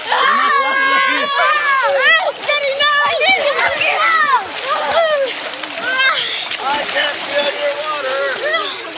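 People splash water in repeated bursts, loud and close, while excited voices shout and scream throughout.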